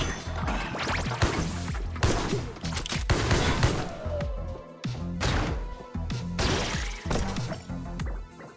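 Video game combat with gunfire and smashing as machines are kicked or shot for soda, loud bursts of shots, crashes and thuds coming in clustered waves, close and busy.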